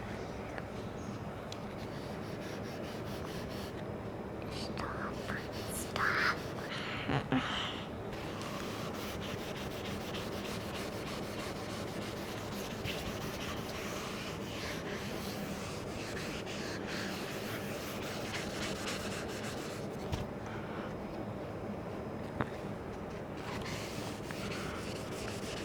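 Steady dry rubbing and scrubbing for the whole stretch, a continuous brushy friction like an eraser wiped back and forth across a board, with a few faint knocks.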